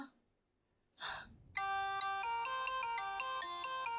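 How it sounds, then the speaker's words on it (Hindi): A short breathy sound, then a bright electronic phone ringtone plays a repeating melodic pattern, loud and steady to the end. "फोन आ रहा है।"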